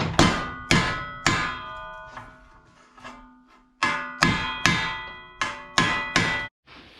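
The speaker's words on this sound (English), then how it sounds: "And hammer." Hammer blows on a red-hot steel pin held in a vise while rehandling a shovel, about ten loud ringing metallic clangs in irregular bursts, each with a bright decaying ring, and a short pause midway.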